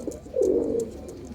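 A male pigeon from a breeding pair of good-quality birds coos once, a low rolling call lasting about half a second, close and clear against quiet surroundings.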